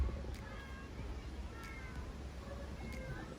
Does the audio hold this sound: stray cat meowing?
yes